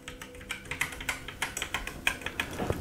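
Keys being tested one after another on an old Acorn Electron home computer keyboard under repair, a close, uneven run of sharp plastic clicks and clacks with no talking.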